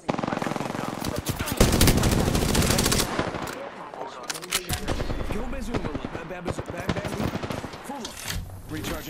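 Gunfire from the Apex Legends video game comes as loud, dense automatic bursts and sharp shots, with short pauses between volleys. Game voice lines are heard among the shooting.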